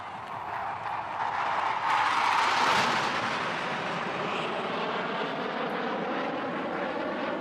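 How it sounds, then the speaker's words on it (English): A Hawk Mark 132 advanced jet trainer flies overhead at an air show on Marina Beach, Chennai, giving a broad, steady jet roar that swells as it passes and holds loud and continuous throughout. "flying above are the Hawk Mark 132, advanced jet trainer"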